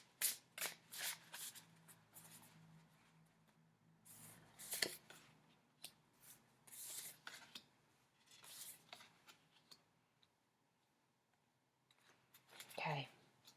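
Oracle cards are shuffled close by in soft bursts of riffling and sliding, pausing between rounds, with a breathy voice murmuring near the end.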